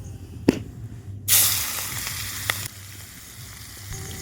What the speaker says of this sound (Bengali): প্রথমে কড়াতে তেল দিয়ে দিলাম।